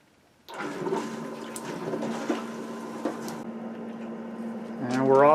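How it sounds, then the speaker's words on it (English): A small pump starts up to circulate descaling flush fluid through a Rheem tankless water heater, a steady humming whine with liquid gurgle that holds for several seconds before a rising swirl of flow near the end. "So now we're just going to go ahead and turn the pump on, and we should start pumping the fluid into the system."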